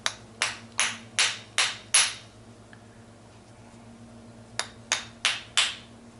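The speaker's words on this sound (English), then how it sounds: "take the light hammer, straighten this out a little bit." A light hammer taps a gearbox part straight during a 1969 Lotus Elan SE gearbox rebuild: five sharp metallic taps in quick rhythm, a pause, then four more close and clear.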